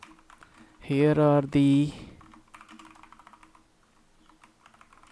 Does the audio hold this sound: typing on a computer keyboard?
yes